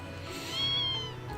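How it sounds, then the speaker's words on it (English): A cat meows in the video game Trails of Cold Steel, one drawn-out meow over a steady background of game music, clear and moderately loud. "He's a kitty."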